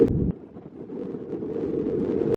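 Strong wind buffets the microphone in a constant low rumble on the Kent coast between Faversham and Whitstable, with a heavier gust at the start and steady roaring throughout.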